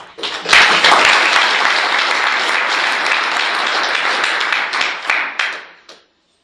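A large audience bursts into sustained applause welcoming a professor to the stage at an evening talk on personalized cancer care, a dense wash of clapping that holds steady for about five seconds before tapering off.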